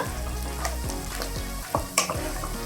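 Chana dal sizzles loudly while frying in a pan for a horse gram upma, with a continuous crackle and several sharp scraping stirs of a spoon against the pan, and no voices.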